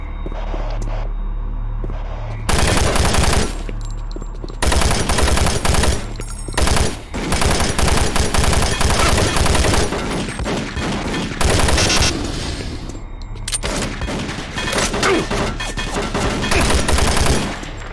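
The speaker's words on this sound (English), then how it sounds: "Alright, proper firefight." Machine gun fire in a video game firefight, loud sustained bursts of rapid automatic shots in long volleys separated by short pauses, with occasional booms and no talking.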